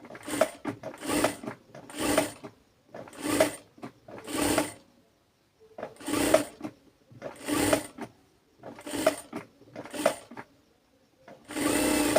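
Sewing machine stitching a palazzo sleeve, heard as repeated short bursts of loud mechanical whirring, about ten runs separated by brief pauses, close and alone.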